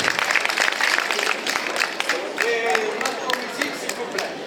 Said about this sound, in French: Ouais, on peut les applaudir.